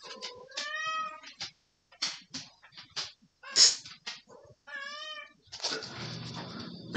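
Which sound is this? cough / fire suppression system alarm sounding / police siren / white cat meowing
white cat meowing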